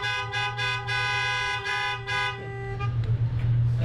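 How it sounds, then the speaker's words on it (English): Car horns honk at a Knox Central High School Class of 2020 graduation celebration parade: several loud, sustained toots in a row, followed by a rougher blend of horns and engine noise. "A simple honk will do."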